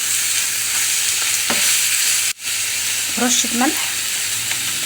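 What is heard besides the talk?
stirring frying ground meat with spices in pan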